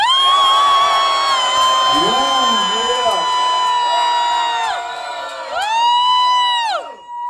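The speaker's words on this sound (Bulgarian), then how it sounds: "Извикайте за секта!" An audience at a Bulgarian freestyle rap battle shouts and cheers loudly, a sustained roar of many voices with rising and falling whoops that carries on for several seconds.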